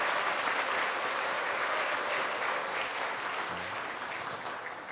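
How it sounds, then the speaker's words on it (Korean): A church congregation breaks into loud, sustained applause during a Sunday worship service appointment ceremony, the dense clapping filling the room steadily and tapering slightly toward the end. "큰 박수 해주시기 바랍니다"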